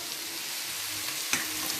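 Meat sits boiling in its own released juices in a pan, a steady soft bubbling sizzle with a small pop partway through, faint and alone.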